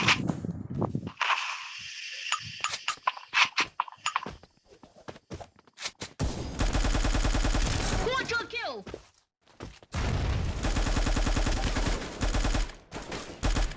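Rapid bursts of video game gunfire from a SCAR rifle crackle in quick repeated volleys, with sharp single shots between, mixed with someone talking over the action.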